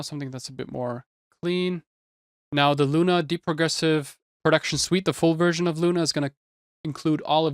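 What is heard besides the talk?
No distinct noise like a dog, phone or traffic.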